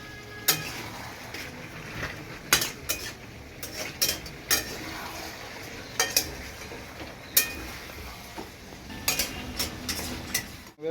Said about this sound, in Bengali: আলুটা দেওয়ার পরে হালকা নাড়াচাড়া করে নিয়ে